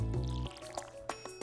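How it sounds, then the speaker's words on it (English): A watering can pours onto crop plants in the Stardew Valley farming game, giving short splashy liquid bursts at a moderate level over a steady low game background. "we do need to get these plants watered"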